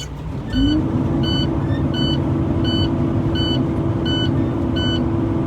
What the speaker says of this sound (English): that's my low air pressure buzzer alarm because it's below 60 psi right now